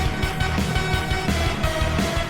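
A leitmotif from a video game soundtrack heard within another track: a brief, loud burst of music with a driving, regular low beat under bright layered tones and no voices.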